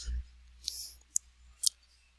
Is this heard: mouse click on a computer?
yes